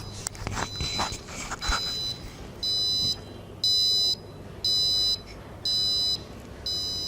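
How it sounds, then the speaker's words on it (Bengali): Alarm buzzer on an RTC-module-based digital clock project beeps in five evenly spaced bursts after a stretch of quiet handling noise, each burst a steady electronic tone about half a second long, close to the microphone. "এটি হচ্ছে আমাদের অ্যালার্ম সাউন্ড।"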